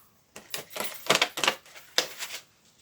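Wire being snipped with pliers during a craft armature build, a quick run of sharp metallic clicks and snaps at close range, irregular and clustered over about two seconds.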